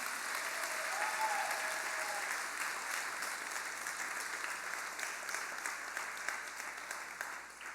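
A church congregation applauds visiting guests, a steady, even patter of many hands clapping in a large room that gradually thins toward the end.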